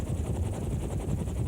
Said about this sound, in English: AH-64 Apache attack helicopters.